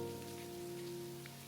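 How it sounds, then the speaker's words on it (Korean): Heavy rain falls steadily in Hakodate, Japan, a dense, continuous hiss with a faint low steady hum beneath it and no voices. "비가 너무 많이 오니까"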